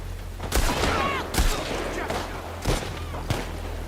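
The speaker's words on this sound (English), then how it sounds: "It's just everyone shooting at me." Enemy gunfire in The Last of Us Part 2 played on PC: several sharp, loud shots in quick bursts a second or so apart, with a brief spoken reaction between them.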